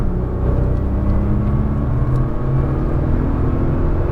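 Nissan GT-R on a race track, a steady dense engine roar with rumbling low tones and a sustained whir, loud and continuous as the car accelerates out of a corner.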